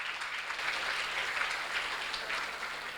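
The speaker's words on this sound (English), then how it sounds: "Round of applause." A book-fair audience gives a round of applause, with a soft, distant wash of steady clapping that lasts throughout and no talking.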